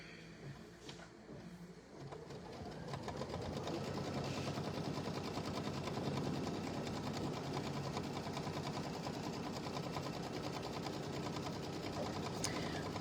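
A sewing machine quilting a strip for a small winter tote bag, starting with a few hesitant stitches and then running at a steady fast whir that stays close and even.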